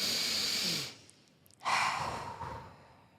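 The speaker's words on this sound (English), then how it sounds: "take a couple of breaths in, A deep breath. some inhales, some exhales." Deep breathing during a guided calming exercise: a long airy exhale, a short pause, then a sharp inhale that eases into another slow breath, close and soft with no talk.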